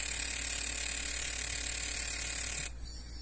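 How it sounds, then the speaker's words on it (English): Fuel injector tester firing an injector repeatedly on a 2011 Ram 1500 5.7 Hemi, a rapid, steady mechanical buzzing-ticking close by with a constant hum, stopping sharply near the end. "When I press this test button, it's going to fire the injector several times, and we're going to get a pressure drop."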